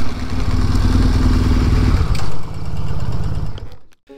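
Motorcycle riding on a long trip through Algeria, the engine loud and close with a steady throbbing rumble, shifting pitch midway before easing off and cutting out near the end.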